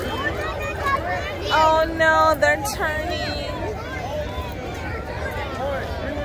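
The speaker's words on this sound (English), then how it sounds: "I hear people getting louder and children yelling and the crowd like cheering for them to come." A parade crowd at an evening lights parade in Arizona, with a hubbub of voices that rises in bursts of cheering and children's yelling, heard close and mixed with nearby chatter and talk.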